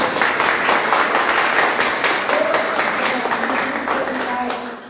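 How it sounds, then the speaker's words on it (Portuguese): A church congregation clapping together during a Sunday worship service, a broad, steady wash of many hands applauding for several seconds, fairly loud and close. "Vamos aplaudir o nosso Deus"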